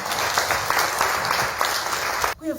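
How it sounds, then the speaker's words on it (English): An audience at a girls' engagement meeting with a parliamentary portfolio committee claps steadily for a ministry official, dense close applause that cuts off sharply near the end. "Clap hands for her."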